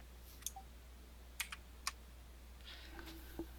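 Faint, sparse keyboard clicks, a few isolated keystrokes tapped on a computer keyboard at low level against quiet room hiss.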